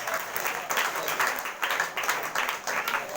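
A church congregation applauds during a Sunday service, with loud, close clapping in rhythmic bursts throughout.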